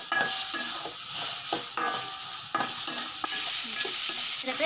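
Onions and tomatoes sauté in a hot pan, an intense hissing sizzle with brisk, repeated scrapes of a spoon stirring the mixture, loud and close.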